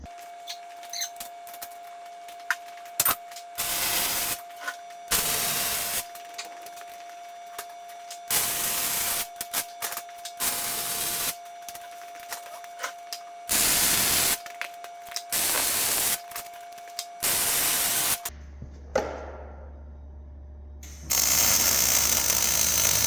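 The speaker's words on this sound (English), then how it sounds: "I'm going to weld it up." Steel frame of a large towel rack being welded in several separate bursts, each a loud, crackling hiss lasting a second or two, with quiet gaps between them and some clanks and rustles near the end.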